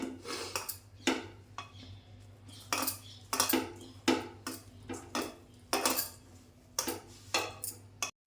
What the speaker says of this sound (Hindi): चलो बर्तन धो लेते हैं थोड़े से।